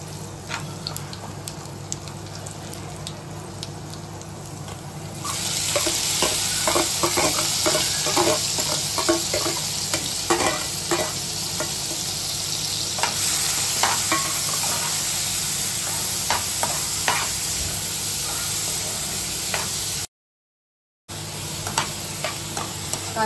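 Sliced onion hitting hot oil in a pan and frying with a steady, loud sizzle that swells after a few seconds, with occasional stirring clicks and a brief dropout near the end.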